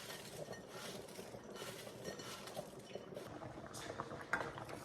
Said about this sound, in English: My sauce came to a boil, so it's just thickening up